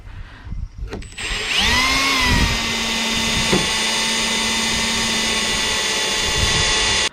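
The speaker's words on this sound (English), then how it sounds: "So let's drill another hole." A power drill whirs up and runs steadily at high speed for several seconds, drilling a hole for a rear spoiler on a Cobra Daytona car build, a loud continuous motor whine close by.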